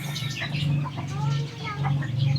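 Native chickens cluck and call in a small yard, producing repeated short clucks and coos over a steady low background hum, fairly close and continuous.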